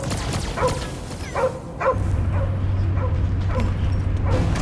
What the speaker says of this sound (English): Get away from my dog! Nobody kicks a dog on my watch!